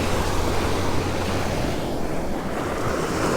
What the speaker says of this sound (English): Whoa, there's some big waves coming in here.